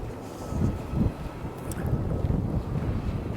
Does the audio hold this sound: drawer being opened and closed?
no